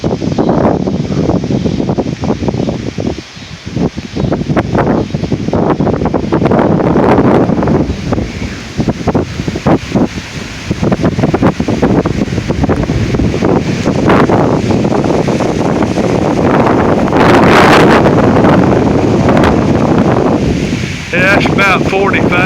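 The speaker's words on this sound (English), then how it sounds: "That was probably a 40 mile an hour gust." Strong gusts of an Oklahoma severe storm roar across the microphone in sustained, loud buffeting surges, with occasional bursts and brief voices underneath.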